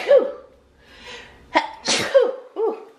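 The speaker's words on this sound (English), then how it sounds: "Three sneezes." A loud, close sneeze with a drawn-in breath before it, followed by a second burst and a short vocal sound afterward.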